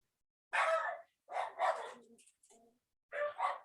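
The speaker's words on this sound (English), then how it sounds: "I don't know what they're barking at, but they heard another dog or something." Dogs bark in short bursts, a couple of quick barks, a pause, then more, fairly close and clear.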